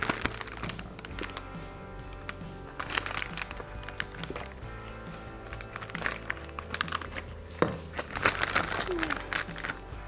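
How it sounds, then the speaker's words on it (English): Pumpkin cupcake batter is spooned into a Ziploc bag, giving irregular plastic crinkles, soft thuds and scraping knocks, close by, with a voice speaking briefly. "So I'm just going to fill the Ziploc bag."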